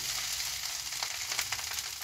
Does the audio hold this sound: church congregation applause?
no